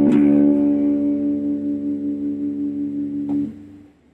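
A sustained, distorted electric guitar chord from a homemade electric cigar box guitar rings out with a gritty, saturated tone, holding steadily for about three seconds before cutting off.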